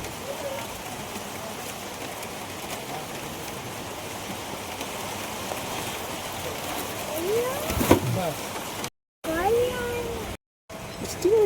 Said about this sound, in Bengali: বৃষ্টি হচ্ছে বাইরে।